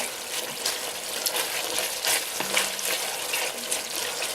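A pound of bacon browning in a pot for clam chowder, a steady close sizzle and hiss with faint crackles throughout.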